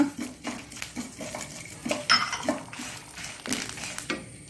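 Spices roasting in a pan for Mangalorean sorekai sambar, a spoon clinking and scraping against the metal in quick irregular strokes, fairly quiet and close, with no voices.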